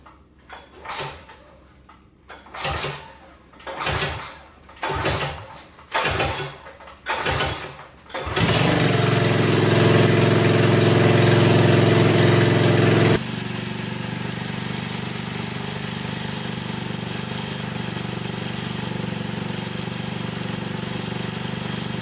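A race car engine on a dyno is cranked in a series of rhythmic starter pulls, then roars loudly at steady high revs before dropping to a lower sustained idle, close and with no talk.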